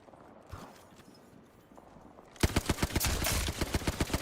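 Rapid automatic gunfire in Apex Legends, a fast steady burst of sharp shots starting abruptly after a quieter stretch with a few distant pops, loud and close.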